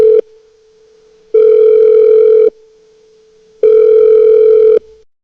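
A phone ringback tone repeats twice, each long steady ring followed by a pause, loud and clear with no voices.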